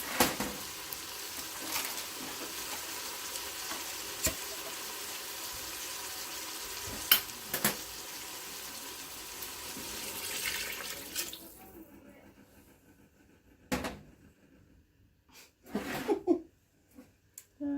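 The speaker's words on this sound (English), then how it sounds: "go ahead and pour in our chicken broth and the beans" Chicken broth and beans pour into an Instant Pot as a steady watery splashing and rushing that runs for about eleven seconds, then gives way to a few clunks and faint handling noises.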